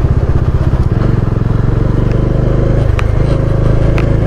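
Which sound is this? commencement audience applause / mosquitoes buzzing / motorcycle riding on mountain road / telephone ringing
motorcycle riding on mountain road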